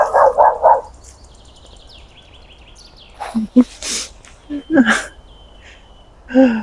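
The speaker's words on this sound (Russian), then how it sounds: "Собаки нам мешают" Dogs bark in a quick burst of several yelps near the start, fairly close and loud, followed by outdoor garden ambience with birdsong, scattered rustles and a few more bark-like bursts later on.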